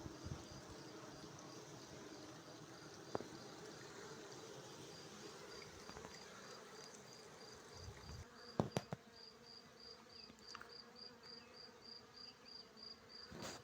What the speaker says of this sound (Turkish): Şu anda arılar lavanta çiçeğine ve Kızıldağ Milli Parkımızın kekik çiçeğine çalışıyor.